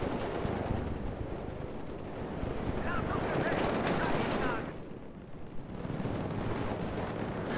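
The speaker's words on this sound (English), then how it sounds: "And here comes my artillery." An artillery strike in a tank game set with Leopard tanks against Russian forces rumbles as a sustained barrage of heavy booms and crackling blasts, loud and somewhat distant, with someone talking over it.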